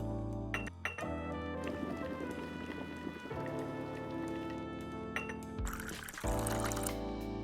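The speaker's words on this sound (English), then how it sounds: "Pour hot water into the spout." Hot water pouring into a mug in a cafe video game, a continuous liquid stream over a bright, steady musical backdrop, with a few clicks and splashy bursts.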